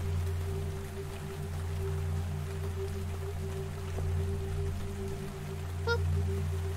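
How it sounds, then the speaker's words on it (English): Steady rain falls in a fan-made video game, a continuous hiss over a low hum with a faint tone, constant and even throughout. "It's raining!"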